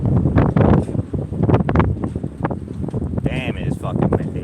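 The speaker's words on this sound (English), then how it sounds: "it is fucking windy" Strong wind blows straight onto the microphone outdoors, making loud rumbling, thumping gusts with brief voice sounds mixed into the buffeting.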